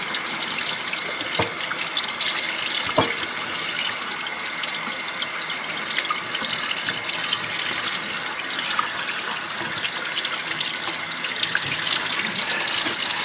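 Kitchen tap water runs steadily into a bowl while oxtails are rinsed, a continuous close hiss and splash with occasional small knocks from handling the meat, no talking.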